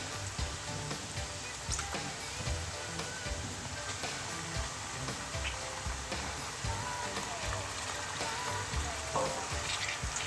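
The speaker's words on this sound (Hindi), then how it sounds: "इनको मैं अदरक लहसुन के पेस्ट और ज़ीरे के साथ थोड़ी देर के लिए मैं इसको भूनूंगी" Mutton pieces frying in a pan with ginger garlic paste and cumin for haleem, giving a steady close crackling sizzle with scattered pops and stirring scrapes throughout, with no talking.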